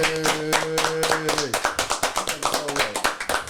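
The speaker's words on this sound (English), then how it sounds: "Clap it up for the Opinion Lounge." Several people clapping together in quick, uneven rhythm, close by, with voices and a musical tone sounding underneath.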